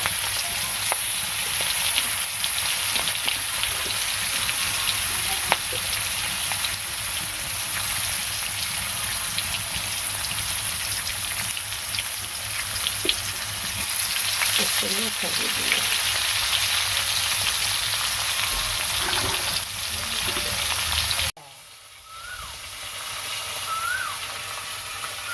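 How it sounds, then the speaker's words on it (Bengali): Fish frying in a pan gives a steady, dense hiss and crackle up close that holds for a long stretch, then drops suddenly to a quieter sizzle near the end. "মাছ ভাজি করবো, মাছ ভাজা হয়ে গেছে"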